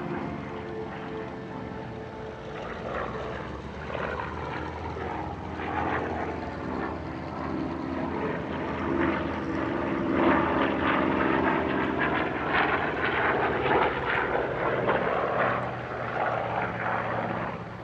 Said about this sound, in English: this three-ship performance is almost as unique, with it being the largest gathering of Corsairs in Europe for quite a few years